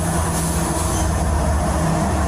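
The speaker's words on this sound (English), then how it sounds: "We'll wait till the train passes." A train rolls past close by, a loud continuous low rumble and roar of rail cars that fills the scene without pause.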